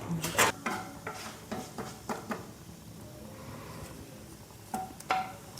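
Cumin seeds crackle in hot ghee in a pan, a faint steady sizzle broken by sharp spoon clinks and stirring scrapes against the vessel.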